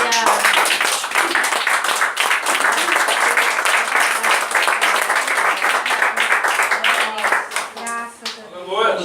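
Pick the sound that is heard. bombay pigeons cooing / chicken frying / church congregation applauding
church congregation applauding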